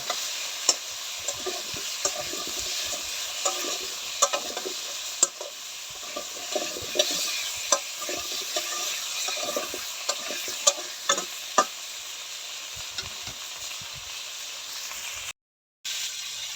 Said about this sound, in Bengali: ভালো করে সবজিগুলো ভাইজা নেব আর একটু ভাইজা নেব